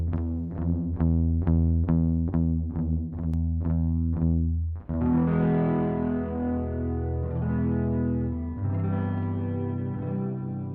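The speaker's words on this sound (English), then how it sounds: "as you increase the parameter of the ADT, the effect becomes more noticeable and has a wider stereo spread" Electric guitar played through an ADT stereo doubling effect in an iOS guitar amp app: a string of plucked single notes, then sustained strummed chords with a wide, chorused, slightly echoing shimmer, loud and alone.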